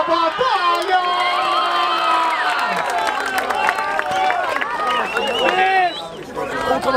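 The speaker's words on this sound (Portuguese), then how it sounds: "Palmas pra essa batalha!" Loud crowd cheering, whistling and shouting fill a hip hop rap battle at the BDA Hip Hop Tour 2019 stage in Presidente Prudente, sustained and dense throughout with excited voices mixed in.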